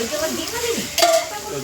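Egg bhurji frying in hot mustard oil while a spatula stirs it, giving a steady close sizzle with scraping strokes and a louder burst of crackle near the end.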